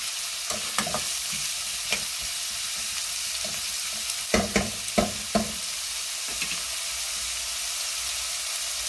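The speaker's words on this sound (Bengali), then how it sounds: "পেঁয়াজটাকে ভেজে নেব।" Onion frying in a pan with a steady sizzle, broken by several clusters of scraping stir strokes, the busiest run coming midway; close and fairly loud, with no talking.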